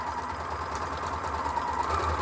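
Sewing machine stitching face mask fabric with quarter-inch seams, a steady mid-pitched motor whir running continuously and evenly close by, no talk.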